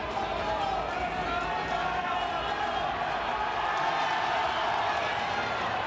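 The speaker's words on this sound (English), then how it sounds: "And just listen to the crowd." A large ice hockey crowd roars continuously in an arena, a dense steady wash of cheering with a commentator's voice running underneath.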